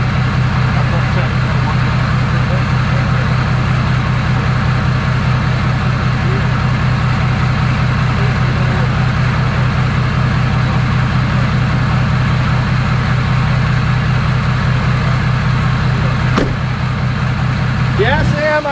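A Powerstroke diesel engine idles loud and steady right after its first start, a deep continuous rumble with a faint whine riding on top, while people talk nearby.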